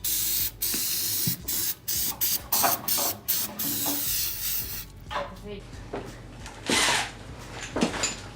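Short bursts of aerosol spray hiss over car parts in an uneven rhythm, loud and close, with a dog barking and a voice speaking in the background.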